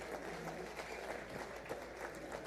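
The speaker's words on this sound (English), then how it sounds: "Another round of applause for our speaker." Applause for a speaker at a legislative retreat for national assembly members, faint sustained clapping from a seated audience, heard from a distance for the whole moment.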